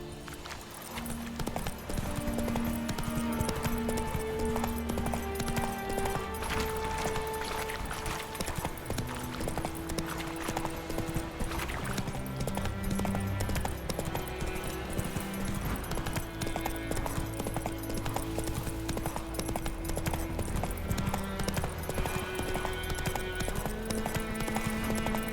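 Horse hooves clip-clopping steadily in The Witcher 3 video game, a continuous rhythmic gallop layered over loud orchestral game music, with no talking.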